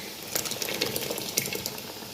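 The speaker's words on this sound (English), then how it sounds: "I'm just gonna go ahead and add my blended tomato" Blended tomato poured into a hot pot of Nigerian chicken stew, a steady wet sizzling pour with soft splashing textures lasting a couple of seconds, fairly close and moderately loud with no talking.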